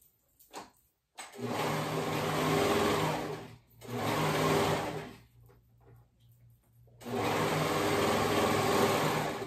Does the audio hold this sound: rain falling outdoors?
no